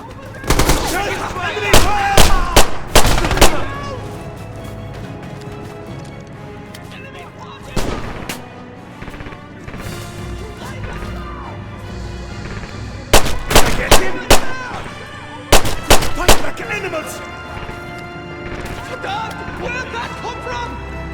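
Machine gun bursts and rifle shots crack through a Red Orchestra 2 Stalingrad battle, clustered volleys separated by lulls, some loud and close, while players shout over the gunfire.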